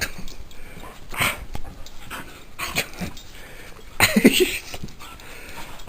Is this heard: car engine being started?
no